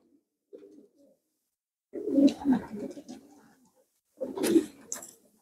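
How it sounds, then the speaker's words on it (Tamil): Pigeons coo in a racing pigeon loft among birds about thirteen years old, a soft faint call first, then two louder bursts of deep throaty cooing with some fluttery movement, no talk over them. "13 வயசு புறா."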